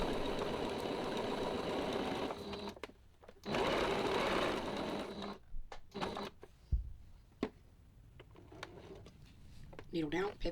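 A home sewing machine stitches short seams around the curves of gingerbread and snowman bowl fillers, running in bursts of close mechanical whirring that stop and start as the fabric is pivoted, with someone talking between runs.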